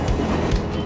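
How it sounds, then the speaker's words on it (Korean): Train running on the Senzan Line in Japan, heading downhill after leaving a tunnel, a continuous loud rumble of wheels and carriage noise. "터널을 나온 열차는 이제 내리막으로 다음 정차역인 사쿠나미역으로 향합니다."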